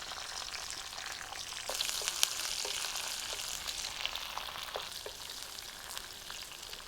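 Mustard seeds, ginger, green chilli and garlic sautéing in hot oil for a roasted brinjal curry, a soft, even sizzle with scattered sharp pops and crackles, fairly faint and uninterrupted by voices.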